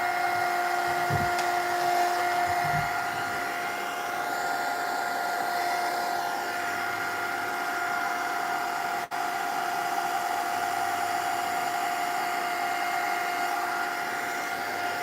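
A hair dryer runs steadily, drying shiny paint on a collage, a continuous whirring hum with a bright whine that holds level, close and loud, with a brief knock near the start and no talking.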